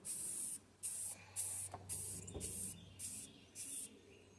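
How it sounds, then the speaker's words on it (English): Short repeated hissing bursts of aerosol spray paint applied to the front of an old vice during restoration, about seven quick close sprays in an even rhythm with faint knocks between. "Okay, spray the front."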